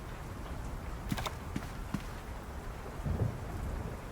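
Rain falls steadily through a dark city of endless night in the video game World of Goo 2, with a few sharp distant thunder cracks and a louder rumble near the end.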